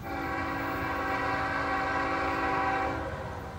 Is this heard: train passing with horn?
yes